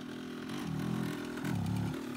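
A small two-stroke Yamaha DT 125 motorcycle engine revs twice in quick bursts, its buzzing pitch rising and falling, close and moderately loud.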